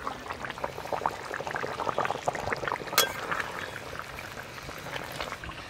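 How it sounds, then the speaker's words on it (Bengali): A thin fish curry with mango and fried snakehead fish bubbles at a low simmer in the pot, giving a continuous soft crackle and burble with a brief clink partway through. "ভেজে রাখা সব মাছ দিয়ে দেব মাছ দিয়ে আর খানিকক্ষণ ফুটিয়ে নিয়েই নামিয়ে নেব"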